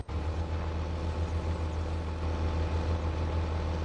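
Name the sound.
tractor engine revving high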